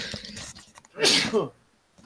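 A single sharp sneeze from a person indoors, a brief loud burst standing out between quieter speech-like sounds.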